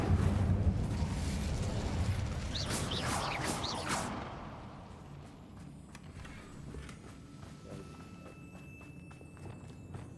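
Bombarda blasting spell from the Hogwarts Legacy video game: a loud, rumbling explosive burst with crackling debris over the first few seconds, settling into a lower, steady rumble with faint clattering afterward.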